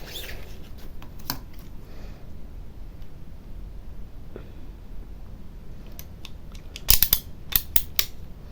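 Scissors snip through paper in a quick cluster of crisp, close cuts near the end, after a stretch of quiet rustling.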